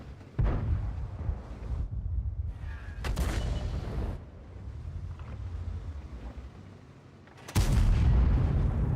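Artillery fire in World of Tanks, with the player driving a VK 45.02 tank: heavy booming blasts, one early and a loud one near the end, over the rumbling drone of the moving tank.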